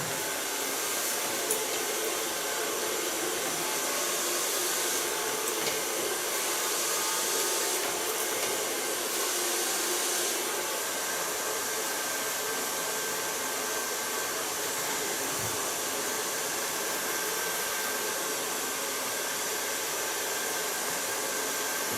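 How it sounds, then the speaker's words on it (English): Kiona blow dryer drying hair with a flat brush at a hair salon, a steady loud continuous whoosh that runs unbroken for the whole stretch, with no talk over it. "and my Kiona blow dryer."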